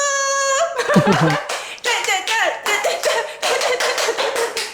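A small group claps and cheers indoors at home, marking a channel's first sponsored segment, with loud, busy clapping and laughter under cheerful talk after a brief sung or drawn-out vocal tone at the start.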